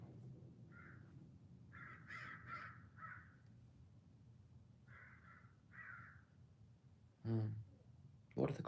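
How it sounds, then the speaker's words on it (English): Crows caw in short bursts of harsh calls, several in clusters spread across the moment, fairly distant and faint, with a louder sharp sound near the end. "What are the crows saying to each other?"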